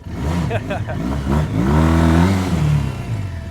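A Ural Neo 500 motorcycle engine revs up hard close by, rear wheel spinning, its pitch rising as it accelerates, with people talking over it.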